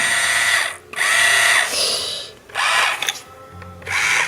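A Bosch toy cordless screwdriver whirs in short bursts, its small motor spinning up and down with a buzzing, geared ratchety tone, close by, pausing between each run.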